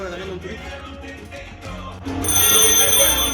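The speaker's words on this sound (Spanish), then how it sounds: "el teléfono de la pared funciona" An old wall telephone in an art- and antique-filled venue in Trinidad, Cuba, rings loudly with a bright, sustained bell partway through, cutting in over a busy room background.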